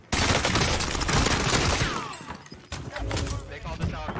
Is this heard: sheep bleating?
no